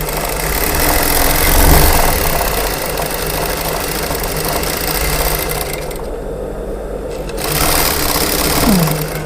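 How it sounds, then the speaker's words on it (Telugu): Sewing machine stitching a plain blouse at a ladies' tailor shop: a steady, loud, close mechanical whirr runs almost without a break and drops out briefly once before starting again. "మళ్ళీ ఇది ఇట్లనే దింపుకొని ఇంకొక కుట్టు వేసుకుంటున్నాం."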